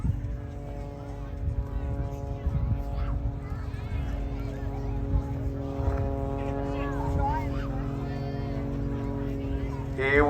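A Cessna 185 Skywagon propeller plane drones steadily overhead in flight, a continuous fairly distant hum heard under ongoing talk.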